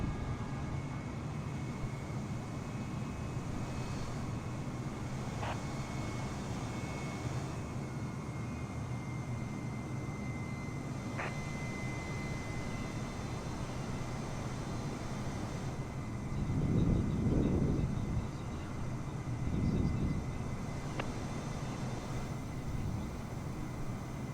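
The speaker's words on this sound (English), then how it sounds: "There we go, there's our takeoff." An Airbus A320neo takes off from Pisa in Microsoft Flight Simulator, a steady broad jet roar holding throughout with faint tonal whines and a brief swell of low rumble near the end.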